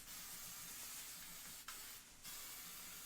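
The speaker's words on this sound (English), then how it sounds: "You're going to make sure you spray just a little bit." Hair product sprayed from a can in a steady close hiss, with a short break midway and then a second spray burst.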